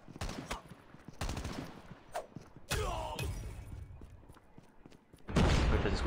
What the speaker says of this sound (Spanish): Simplemente escuchando los disparos.